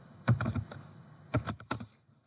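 Fingers tapping on a computer keyboard in two short clusters of quick clicks with a brief pause between them, close and clear.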